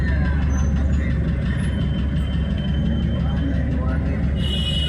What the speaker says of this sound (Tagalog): nagkaroon ng traffic dito sa Bacolod City kasi marami na dito ng sasakyan